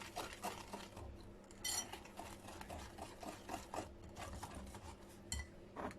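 Flour being mixed into ube puto flan batter in a bowl, a soft, close clatter of utensil scraping and clinking against the container in quick irregular strokes, with no speech.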